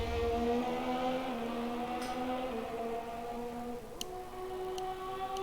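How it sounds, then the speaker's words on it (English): An Alfa Romeo Formula 1 car in a racing video game at Abu Dhabi, its engine whining at high revs in sixth gear, a steady tonal scream holding pitch with slight shifts over several seconds, heard alone. "he's actually revving it out in 6th gear like how I would"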